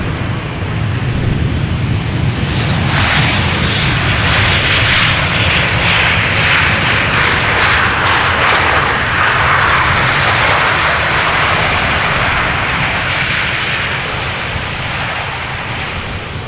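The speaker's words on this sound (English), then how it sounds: "a Transavia now landing, arriving from Catania" A Transavia Boeing 737-800 lands at Amsterdam Schiphol on arrival from Catania, its jet engines a steady, loud, broad roar that holds for the whole stretch before easing slightly at the end.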